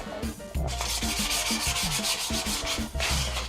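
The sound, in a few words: sanding wood of a sledge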